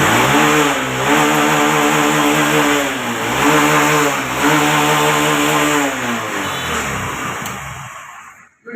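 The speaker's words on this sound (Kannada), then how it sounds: "ಈಗ ಗಾಡಿ ಸ್ಟಾರ್ಟ್ ಮಾಡಿ ತೋರಿಸೋಣ" Honda motorcycle engine fitted with an ECU bypass kit, running loud and close with a buzzing mid-pitched note, revved up and down in repeated surges for several seconds before cutting off.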